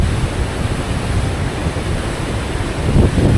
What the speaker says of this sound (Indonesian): Lalu ombaknya menabrak karang-karang yang ada di situ